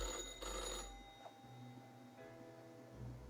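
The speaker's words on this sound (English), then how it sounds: "The old-fashioned phone suddenly rings as with an ear-piercing metallic clatter" An old-fashioned telephone in the Death and Taxes video game rings with a sharp metallic clatter, a short burst of bright ringing near the start followed by a lingering hum and faint tones.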